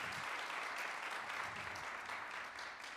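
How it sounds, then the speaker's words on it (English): Soft, fairly distant applause from a small audience welcomes an architect at an academy talk, a steady patter of many hands that eases off slightly at the close. "round of applause."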